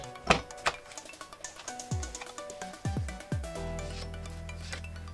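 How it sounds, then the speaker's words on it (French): Paper corner being rounded on a punch board during Christmas advent-calendar album crafting: close rubbing and handling of paper, with several sharp clicks of the punch spread across a few seconds. "j'utilise toujours ma punch board et je viens ici placer mon angle et faire l'arrondi"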